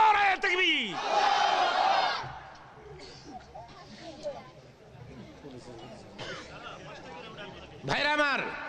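A large crowd at an outdoor Bengali Islamic sermon gathering roars a loud, unified shout in response to the Nara-e-Takbir call, the burst lasting about a second before a preacher's voice and crowd murmur resume, with another swell near the end.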